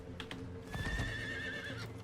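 A horse in the video game Diablo 4 gives a drawn-out whinny, with a few hoof clops around it, heard fairly close and fairly quiet.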